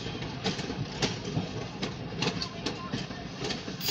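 The OC&T Alco 75 passenger train, running between Titusville and Oil City, Pennsylvania, rumbles past nearby with steady rolling noise and faint rhythmic rail clicks. Voices murmur over the train.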